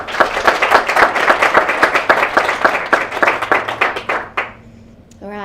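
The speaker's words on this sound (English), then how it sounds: "Another round of applause." An audience at an awards presentation claps steadily in a dense, rhythmic round of applause that lasts about four seconds and then quickly dies away, leaving faint room noise.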